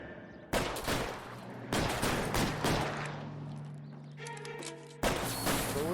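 Gunfire in the video game L.A. Noire: loud, sharp volleys of shots in several separate bursts, each followed by a ringing tail, with no talking.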